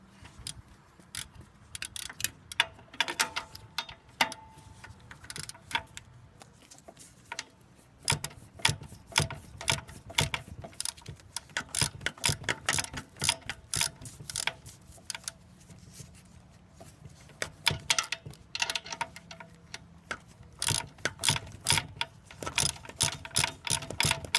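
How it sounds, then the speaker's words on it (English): A ratchet wrench clicks rapidly in repeated bursts, working the alternator bolts loose on a 1992 Ford Bronco, close and steady with brief pauses between runs and no one talking. "now we just got to get in here and get these bolts out"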